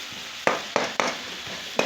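Tomatoes cook down in a pan for moong dal, with a few sharp spoon scrapes and stirring knocks landing irregularly over a soft sizzle.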